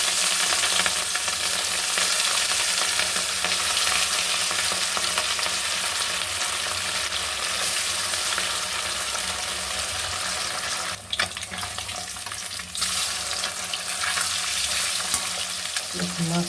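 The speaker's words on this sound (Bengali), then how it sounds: "দেখুন মাছগুলা লাল লাল করে আমি সব ভেজে তুলে নেব" Pieces of salted, turmeric-rubbed katla fish sizzle steadily in hot oil, a continuous close frying hiss with occasional stirring clatter and brief bursts partway through.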